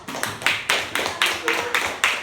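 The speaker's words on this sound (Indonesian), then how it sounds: "Oke, kita beri tepuk tangan dulu." A classroom of students claps in a slow, rhythmic unison pattern, about eight evenly spaced group claps, close and moderately loud, with faint voices underneath.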